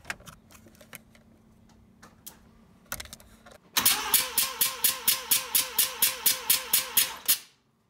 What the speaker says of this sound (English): we're going to crank it over, and what we want to be listening for is three evenly spaced compression pulses